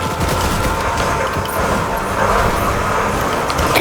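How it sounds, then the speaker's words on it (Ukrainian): Gunfire in the Fortnite video game crackles as a continuous noisy barrage of shots, fairly loud and sustained across the clip, with no talk over it. "Тут і стріляють, будь обережний."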